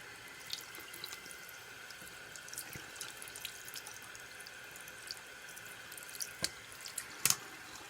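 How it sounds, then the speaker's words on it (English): Cold tap water runs steadily into a sink while a rusty part coated in rust dissolver jelly is rinsed off, a soft continuous hiss with scattered drips and splashes and no talk. "rinse it under cold water to get the jelly off"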